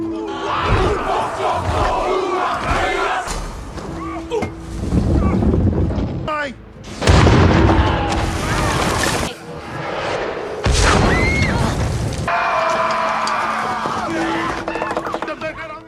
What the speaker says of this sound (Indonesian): inilah perang yang brutal itu